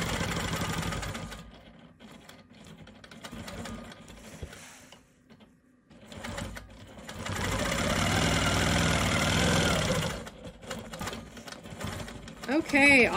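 A Quilt Maker Pro 20 quilting machine stitches around a quilt block's perimeter, its motor whirring in long runs with brief pauses, while someone talks over and between the stitching.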